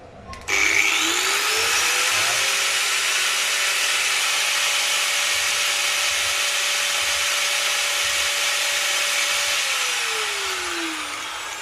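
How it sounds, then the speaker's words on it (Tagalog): An electric angle grinder runs on solar inverter power, spinning up with a rising whine, then holding a steady loud high-pitched whir for about nine seconds before winding down at the end. "So ito yung grinder natin, masaksak dito."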